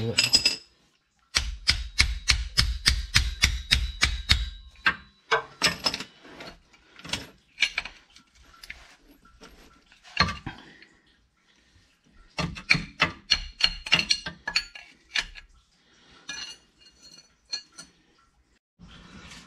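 A torque wrench is tapped to free a rusted rear differential plug on a 2017–2022 Kia Sportage, giving quick bursts of sharp metallic clinks and ratcheting clicks, separated by pauses, close and fairly quiet.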